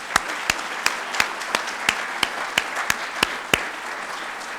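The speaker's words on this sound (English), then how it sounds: "I'd like everybody to join me in a round of applause" Applause rises from a lecture audience at a medical centennial lecture, a steady murmur of clapping with a row of sharper, evenly spaced claps close by standing out above it.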